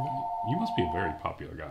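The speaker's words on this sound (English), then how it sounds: "is that a phone? That is a phone because the phone has to ring when we're recording." A telephone rings with a steady electronic double tone through the whole short stretch, sounding close and fairly loud while people talk over it during a tabletop wargame session.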